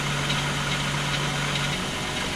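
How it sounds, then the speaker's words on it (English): A 2000 VW Eurovan engine idles steadily while warming up after a coolant reserve tank replacement, a continuous close hum with a faint low tone and no voices. "So we're going to let this run for a minute and let it heat up and we'll see."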